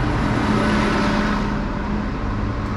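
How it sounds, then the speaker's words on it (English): A city bus rolls along Haight Street in San Francisco, a steady loud engine rumble and road roar filling the scene without any talk. "And now we got a bus."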